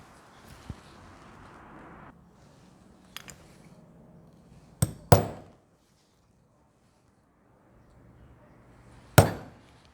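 A hammer strikes a size 12 hole punch through a wallet pattern piece: a single tap, then a sharp double knock, and a final hard strike a few seconds later, with quiet gaps between.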